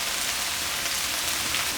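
Lamb in a wok with garlic, oyster sauce and sesame oil sizzles loudly and steadily over high heat, a dense, crackling hiss close to the microphone with no talk.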